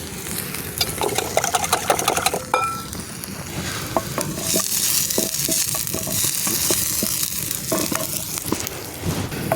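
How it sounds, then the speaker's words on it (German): Onions frying in a pan for a medieval scrambled-egg recipe, with a steady close sizzle and repeated scraping stirs and clinks from a utensil throughout. "So, die Zwiebel braten jetzt mal an."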